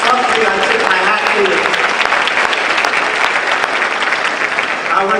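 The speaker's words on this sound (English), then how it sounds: "So a round of applause, please, for Colin." Loud, continuous applause sweeps through a gala audience, with voices and cheers mixed into the clapping throughout.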